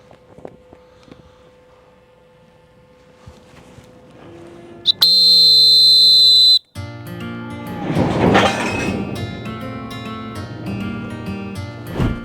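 A railway locomotive sounds a loud, steady horn blast of about two seconds during freight wagon coupling work, following quieter clatter and followed by a heavy, broad rumble.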